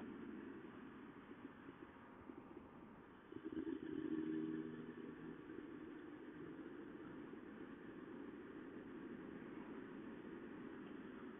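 Yamaha FZS 1000 Fazer motorcycle from 2002 cruising through town, a steady low engine drone throughout with a brief louder swell of revving partway through.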